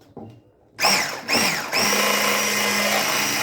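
A blender whirs loudly after a short pause, beating cake batter with eggs and vanilla, starting and stopping twice, then runs steadily at a constant pitch through the end.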